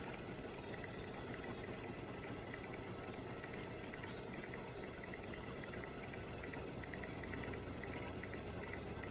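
An embroidery machine stitching baseball-themed tic tac toe game pieces, a steady continuous mechanical whir and hum running throughout at an even level with no talk.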